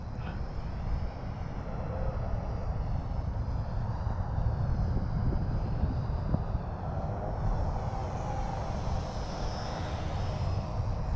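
An Eachine Mini T-28 RC airplane flies in gusty wind on a cold 37-degree day, its small motor giving a steady, continuous drone that sits fairly distant under broad wind rumble for the whole stretch.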